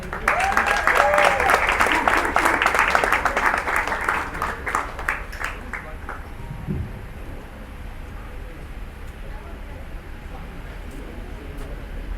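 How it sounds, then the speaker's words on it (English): Audience applause at a stand-up comedy show in a Muscat food court, loud and dense at first, then thinning and fading over the second half into quiet room noise. "Can I have a round of applause, guys,"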